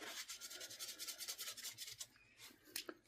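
Fine 1000-grit sandpaper rubbed back and forth over a Frontier pocket knife with brass liners, giving a steady, close, soft hiss of repeated strokes that fades toward the end with a couple of sharper scrapes.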